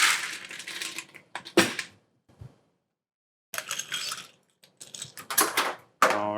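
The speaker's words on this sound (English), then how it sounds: "we're going to fill the glass with ice" Ice cubes clatter into a glass for a cocktail in a bursty sequence of sharp clinks and rattles, with short quiet gaps between pours and a final bright ringing clink.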